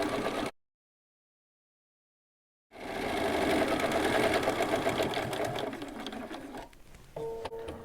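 A domestic sewing machine stitches fabric for a kitchen towel and tablecloth, starting after a brief pause with a close, steady whirring hum and rapid needle clatter.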